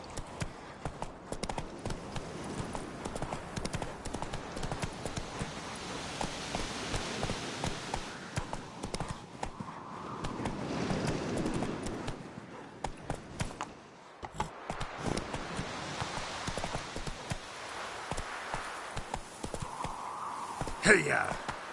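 A horse's hooves clop along at a steady pace in the Witcher 3 video game, faint and rhythmic beneath a voice spurring the horse on and other game sounds.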